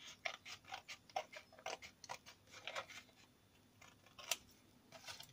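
Scissors snip through a paper baptism box template in quick, crisp repeated cuts, close and fairly quiet, with a faint steady hum behind them.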